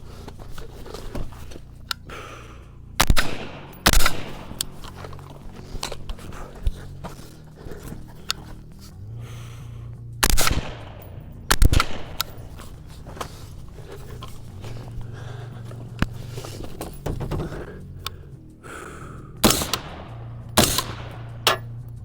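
Rifle shots fired at paper targets during a timed drill: a series of sharp, loud single cracks spaced irregularly over about twenty seconds, with quieter handling noises between.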